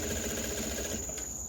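Sewing machine stitching a jeans waistband during an alteration, a steady rapid mechanical whir, close and continuous.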